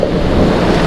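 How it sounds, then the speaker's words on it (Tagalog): Strong wind roars and buffets against the microphone in a loud, continuous rush, with a low surf-like rumble and no voices. "napakalakas ng hangin"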